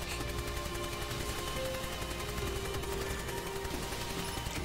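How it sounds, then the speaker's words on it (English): Continuous gunfire in the SAO Fatal Bullet video game while grinding for an AMR Grim Reaper, with dense rapid shots and bursts running without pause at a moderate, even level. "And just shoot them again"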